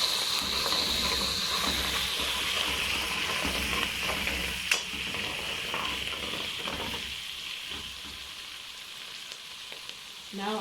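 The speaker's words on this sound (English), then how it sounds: "My oil is ready. Now I'm going to put in my onion." Onion frying in hot oil with a loud hissing sizzle that slowly eases, stirred with occasional scrapes and one sharp knock, close up with no voices.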